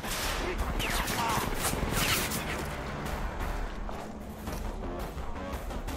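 Shotgun blasts in the video game Rage 2 boom through a dense, noisy firefight, close and loud, with a voice talking over much of the action.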